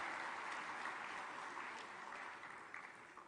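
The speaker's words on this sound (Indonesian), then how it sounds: "Mari kita beri tepuk tangan." Applause from a crowd at a mass KUR loan signing and launch event in East Java, a steady wash of many hands clapping at moderate distance, slowly fading.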